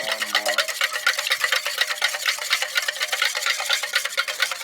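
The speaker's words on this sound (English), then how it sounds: "stir it more." Bhang lassi being stirred in a vessel, a steady run of quick scraping and sloshing strokes that go on without pause, with a short low hum at the start.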